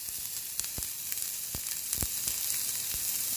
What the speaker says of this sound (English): I'm just sweating the onions and stuff.